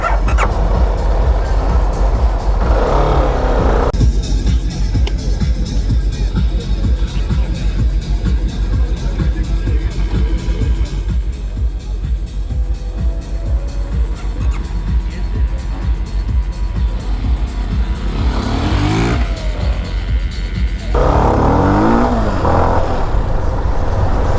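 A CFMoto motorcycle ridden on a road, engine roaring loud and close with steady throttle and rising revs and wind rush throughout, surging harder near the end during a wheelie.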